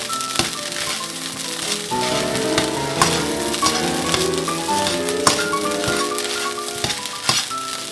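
Egg fried rice sizzling and frying in a pan as it cooks down to crispy bits, a loud steady sizzle with scattered clinks and stirring scrapes throughout.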